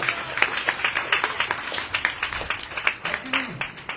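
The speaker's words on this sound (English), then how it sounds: "So loud applause." Audience applause at an evening Bhagavata-saptaha gathering on the banks of the Gomati river, a steady wash of many hands clapping at moderate loudness, with a voice briefly heard beneath it.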